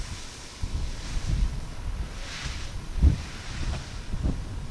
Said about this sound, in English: it's gusting a bit